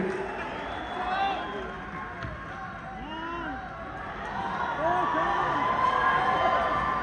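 Concert crowd at a live show in Dubai's Global Village cheering and applauding, a dense steady roar of voices and claps that swells louder toward the end, with babble throughout.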